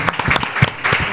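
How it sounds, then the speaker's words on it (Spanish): A short, loud, close burst of clapping and applause from a small group, lasting about a second. "Nosotros también te aplaudimos, Nacho, bien."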